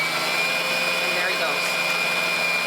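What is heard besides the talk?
sewing machine winding a bobbin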